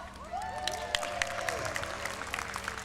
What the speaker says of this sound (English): Can you applaud?